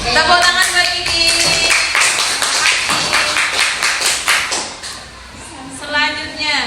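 A classroom of children claps hands together for a classmate, a loud burst of brisk, rhythmic applause lasting several seconds before fading, with a voice speaking around it.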